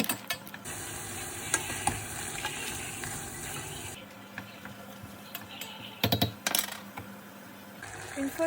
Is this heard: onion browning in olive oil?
yes